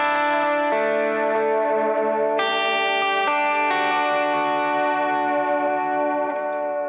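Electric guitar runs through a wet modulation effect with added depth, speed and grit, sustained chords swelling and shimmering with chorus-like wobble and echo, changing a few times and ringing out loud and alone with no talking.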